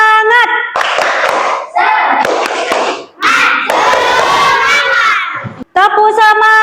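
A classroom of schoolchildren performs a chanted clapping routine, loud close voices shouting in unison with quick hand claps punctuating the chant.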